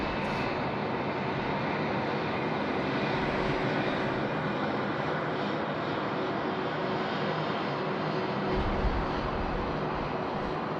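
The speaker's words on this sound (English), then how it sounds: "On finals is Fiji 915. Coming in from Fiji. It's the 738 MAX." A Fiji Airways Boeing 737-8 MAX lands on runway 16 right at Sydney Airport, heard as a continuous, fairly distant jet roar holding steady throughout.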